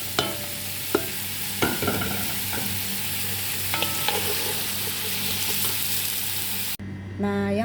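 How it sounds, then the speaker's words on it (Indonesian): Fried vegetables tipped into a pot for Arab-style chicken maqluba rice, then stirred: continuous loud sizzling with scraping and clanking utensil hits, ending in a sharp scrape and a brief change in tone. "Lalu masukin juga ini sayurannya yang saya udah goreng."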